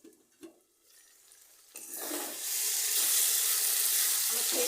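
Spices frying in oil in a pan for a Bengali dried loitta fish curry: a few soft clicks and stirs, then a loud, steady hiss of sizzling that swells and holds close by.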